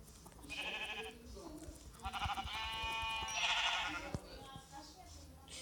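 Sheep bleat in Minecraft, several drawn-out wavering calls in quick succession, fairly close, with game sounds and a voice speaking Portuguese nearby.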